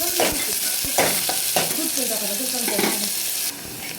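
Chopped onion sizzles and fries in a pan for a chicken fry, with a spoon stirring and scraping through it in several distinct strokes; the frying is steady, close and fairly loud, with no talking.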